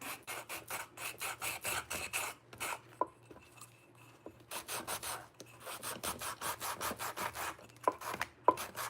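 Sandpaper rubs over a painted terracotta flower pot to distress it, in quick rhythmic back-and-forth strokes close to the listener, with a short pause midway before the strokes resume.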